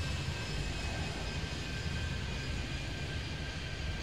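Steady roar of an airliner's engines on landing in the airport game Airport Madness 3D, a continuous broadband rumble with a faint high whine, loud and unbroken, no voices.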